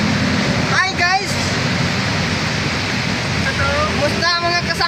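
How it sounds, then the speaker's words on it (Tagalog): Heavy rain pours down steadily as a broad, loud wash of noise throughout, with people talking briefly in Filipino over it. "Yan ang ulan."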